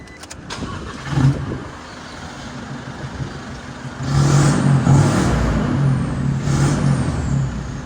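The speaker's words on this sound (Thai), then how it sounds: "นี่เดี๋ยวผมสตาร์ทให้ฟังเสียง" A 2023 Isuzu 1.9 four-door pickup with an aftermarket rear-exit exhaust cranks and starts, settling into a rumbling diesel idle that swells louder and deeper partway through, close by with no talking.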